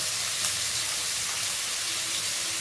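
Onions sizzle steadily in hot oil while frying for a goat intestine curry, a continuous close hiss with no voices.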